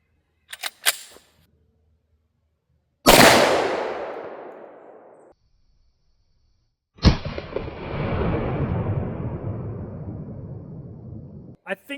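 Two loud single shots from Glock G20 and G40 pistols, one fitted with a 4.5-inch barrel and the other with a 6-inch barrel, each followed by a long, rolling echo and separated by a few seconds, with faint clicks before and after.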